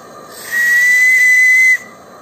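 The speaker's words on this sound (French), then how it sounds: "Le sifflet est installé en dessous, à l'arrière gauche" A single steady whistle with a breathy hiss of steam from a live-steam radio-controlled model Heisler locomotive sounds for just over a second, loud and near, then cuts off sharply.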